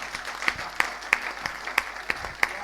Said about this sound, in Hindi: एक बार थोड़ी सी अच्छी सी तालियां मेरे भाई सब लोग